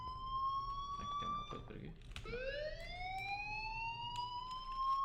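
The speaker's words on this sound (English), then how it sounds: "do you hear that fire alarm?" Fire alarm in the Life is Strange video game sounds as a steady, piercing electronic tone that keeps ringing throughout, close and continuous, with a rising whine joining midway while someone talks over it.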